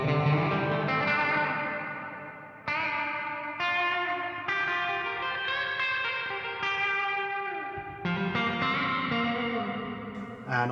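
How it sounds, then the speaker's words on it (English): A cheap Eno reverb pedal on its room setting with decay time at maximum: loud electric guitar chords strummed every second or two, each ringing into a long, smeared wash of reverb tail, with no voices. "putting the time all the way up, back onto room"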